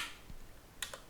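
Computer keyboard keys pressed while saving a Python file in Notepad++, a few light, close plastic clicks with the sharpest tap near the end.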